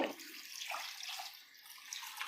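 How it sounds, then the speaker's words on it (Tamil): Water poured from a cup into a pot of chicken salna, a soft splashing trickle that runs steadily for a couple of seconds, quiet and close, with no talk over it. "இந்த கப்பால் 2 கப்பு தண்ணி சேர்த்துக்கலாம்"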